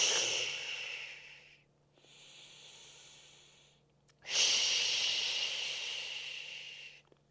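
Two strong hissing exhales during a core and glute floor exercise, a long one, a softer shorter breath, then another long forceful exhale, close and alone with no talk.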